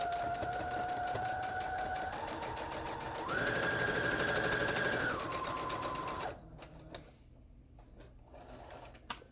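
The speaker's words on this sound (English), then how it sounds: "then back stitch along there as well, and then flip it over and do the same thing on the other side" A sewing machine runs steadily while back stitching the seam of a cinch bag, a rapid mechanical whirr that shifts pitch as the speed changes, then stops, leaving quieter rustling and clicks of handling fabric.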